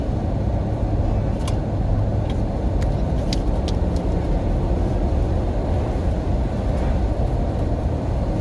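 A truck driving on bumpy rural roads around Parkman, Maine, heard from inside as a loud, steady low rumble of engine and road noise with occasional faint clicks and rattles.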